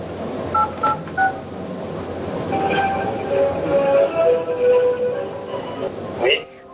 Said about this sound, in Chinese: 主持人又给柴先生的叔叔打去了电话。